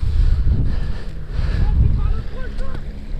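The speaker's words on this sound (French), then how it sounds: "le vent est léger" Steady wind rushes and buffets across a kitesurf beach in light breeze, a continuous low roar with no clear breaks or other distinct sounds.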